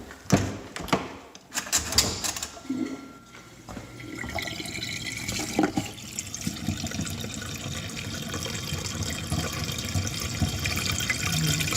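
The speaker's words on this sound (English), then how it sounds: "Looks like it's draining pretty good to me." Water draining from a dishwasher with soap suds in it, a steady rushing flow that builds and holds after a few clunks and knocks at the start, close and continuous.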